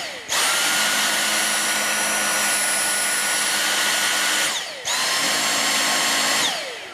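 Dyson V6 Absolute cordless stick vacuum switching into max mode, a loud steady high-pitched motor whine that runs for several seconds, cuts out briefly, then spins up again and holds before stopping.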